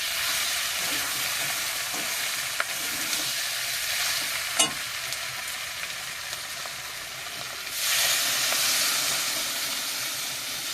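Sautéed meat frying and hissing in a pan with a few light stirring knocks, then a louder, broader sizzle surges up as water is poured in and keeps hissing to the end.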